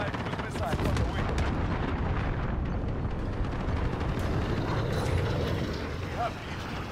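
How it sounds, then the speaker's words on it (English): Dense, continuous rumbling gunfire and explosion blasts fill a hardcore Headquarters match of Call of Duty: Modern Warfare as an allied cruise missile strike lands, loud and unbroken for several seconds before easing slightly at the end. "Allied cruise missile on the way."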